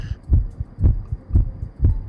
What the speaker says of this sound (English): the heartbeat sound was so loud I couldn't hear